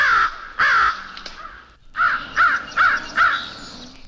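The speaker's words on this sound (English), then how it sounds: "Page 160, Crow." American crow cawing nearby, two loud harsh caws, a short pause, then four more evenly spaced caws.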